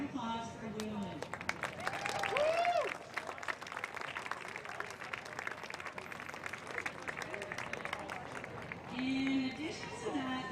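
Spectators at a live sports tour game applaud in scattered, moderate clapping, with a voice speaking through parts of it and cheering voices rising at moments.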